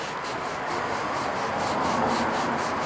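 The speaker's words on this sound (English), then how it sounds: "just start to scrub and you'll see that the solution comes out on its own" Steady scrubbing of a fabric convertible soft top soaked with cleaning solution, a continuous close brushing rub that keeps an even rhythm for about three seconds with no voices.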